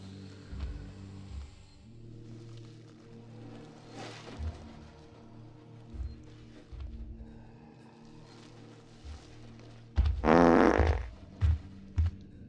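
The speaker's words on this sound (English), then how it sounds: "Those fart noises, really?" Comedic fart noises in the sci-fi survival horror game Alien Isolation: low, buzzy blurts recur through a droning ambient background, ending in a loud, longer burst followed by a few short puffs.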